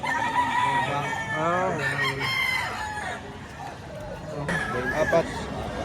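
Roosters crow repeatedly at a busy chicken market in Lipa, Batangas, among them a young stag. The loud, drawn-out calls overlap with clucking fowl and a steady hubbub of people talking close by.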